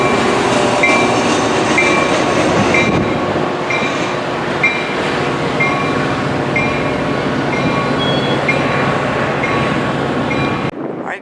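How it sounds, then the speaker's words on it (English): A BNSF freight train passes near Naperville in the Chicago area: a loud, steady rumble of rolling cars with a clickety-clack rhythm and faint wheel squeal, sustained for the whole stretch before cutting off abruptly. "we got our first BNSF train coming here"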